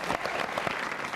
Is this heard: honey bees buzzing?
no